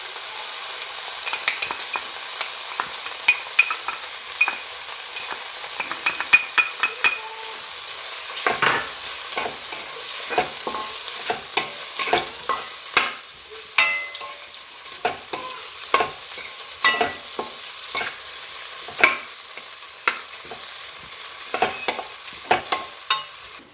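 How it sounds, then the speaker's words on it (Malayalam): Potatoes sautéing with turmeric and chili powder in a Kerala-style potato fry, a soft background sizzle punctuated by frequent irregular scrapes and clacks of a spatula stirring the pan, close up, no talking. "നന്നായിട്ട് വഴറ്റി കൊടുക്കാം. നമുക്കിതിലേക്ക് മഞ്ഞൾപ്പൊടി, മുളക് പൊടി ചേർത്ത് കൊടുക്കാം."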